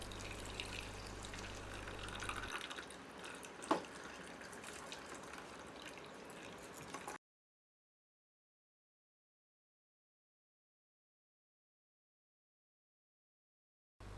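Coconut milk for kuzhalappam, a Kerala snack, splashes as it is strained and poured into a vessel, a soft liquid trickle close by for several seconds before falling silent.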